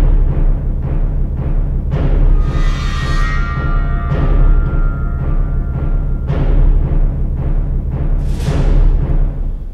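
Slow, heavy heartbeat-like drum hits pulse steadily beneath a dark, ominous tension cue with swelling sustained textures and occasional rising washes, loud and dense throughout.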